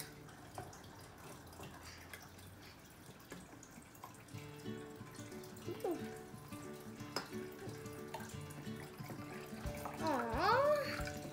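Water poured from a cup during a lava lamp science experiment with oil already added, a steady light trickle and splash that builds toward the end, with faint background noise and no speech.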